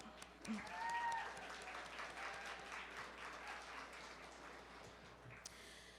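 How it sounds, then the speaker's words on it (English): Audience applauding at a women's honoree reception, a dense sustained clapping that swells early and holds steady for several seconds, filling the room with some voices mixed in. "And yes, clap it up."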